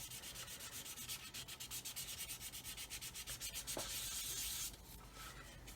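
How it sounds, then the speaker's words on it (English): Rapid rhythmic rasping of a sanding stick rubbing back and forth on a 1/144 Roden C-141B Starlifter plastic model, feathering primer surfacer, close and steady, with a short pause then a longer continuous stroke. "I'm just letting the sanding stick do the work as usual"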